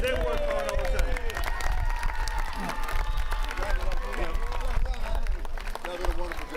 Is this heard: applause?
yes